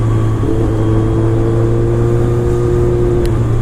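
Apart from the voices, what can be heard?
2007 BMW K1200R motorcycle engine during rain test ride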